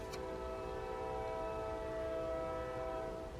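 A model train's horn whistle blows steadily for several seconds, a sustained tonal blast with rich harmonics at moderate distance, with no talking over it.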